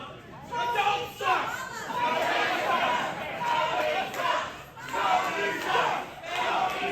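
Wrestling crowd at a Havoc and Haze 8 match chanting a taunt at wrestler Tony Twist, loud rhythmic group shouting rising and falling in repeated waves with crowd noise throughout.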